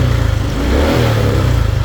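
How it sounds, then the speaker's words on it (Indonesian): A motorcycle fitted with a Taffware wireless key kit runs just after being started, its engine idling loud and close with a steady pulsing throb over the whole short stretch. "Motor sudah hidup."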